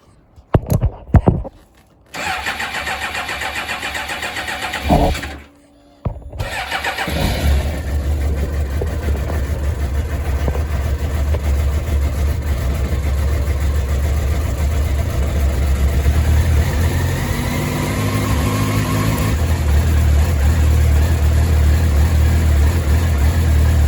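A 1998 Suzuki GSX-R 750 SRAD motorcycle, engine cooled down, cranks in short bursts, then catches and settles into a steady idle that holds close and loud, with the revs rising slightly near the end.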